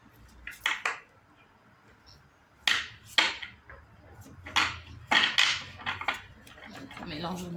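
Tarot cards shuffled by hand, with several crisp riffling and slapping bursts separated by short pauses, close to the microphone, while someone speaks quietly at times.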